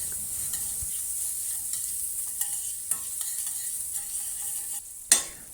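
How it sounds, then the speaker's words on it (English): Pork fat stir-frying over low heat in a pan as its oil renders, a steady close sizzle with light scattered stirring clicks and one sharper scrape near the end, no voices. "Add the pork fat to stir fry over low heat until the oil starts to render."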